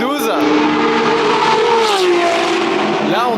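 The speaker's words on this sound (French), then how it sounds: "Impossible de vous parler là avec tout ce bruit de V12." Ferrari V12 race cars revving loudly nearby, a continuous high-pitched engine wail with rising and falling pitch sweeps, several engines overlapping at an event.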